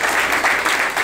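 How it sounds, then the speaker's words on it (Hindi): Students applauding in a training classroom: a short, loud burst of dense group clapping with no pauses. "इनके लिए जोरदार ताली बजाओ भाई।"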